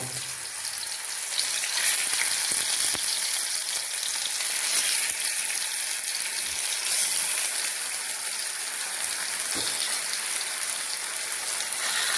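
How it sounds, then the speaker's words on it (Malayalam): Fish frying in coconut oil in a clay pot, a steady close crackling sizzle with bright spitting bursts throughout, no talking. "ഞാൻ മൺചട്ടിയിലാണ് മീൻ വറുക്കുന്നത്"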